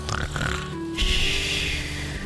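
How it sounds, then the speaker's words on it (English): A furry character named Mikan snores loudly in the video game Alabaster Dawn, giving deep rasping snorts that rumble in close and loud, one breath swelling into the next. "If she's able to snore that loud,"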